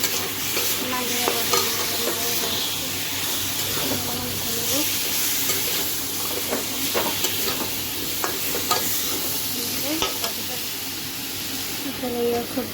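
Ground cumin frying in a hot pan while a utensil stirs and scrapes, a steady sizzle with repeated clinks, and a voice speaking at times.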